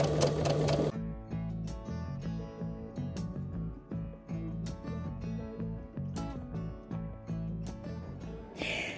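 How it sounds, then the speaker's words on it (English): A sewing machine stitches a child's skirt, running in a steady close whir with short pauses and restarts, and no talking. "She glued it and now she's stitching that part so we can put the elastic through."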